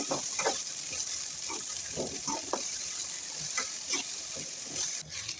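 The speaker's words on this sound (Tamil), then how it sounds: "இந்த இஞ்சி பூண்டோட பச்சை வாசம் போகிற வரைக்கும் நல்லா நம்ம வதக்கணும்" Onions sautéing with ginger garlic paste in a pan, a constant bright sizzle broken by repeated stirring scrapes and spatula knocks, close and fairly loud with no voices.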